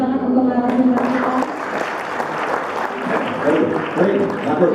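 Audience applause at a Bandung community organisations gathering, steady clapping from a crowd across the whole stretch, loud and close, with a voice talking over it near the start.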